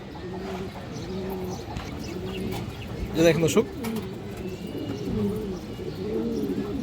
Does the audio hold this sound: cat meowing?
no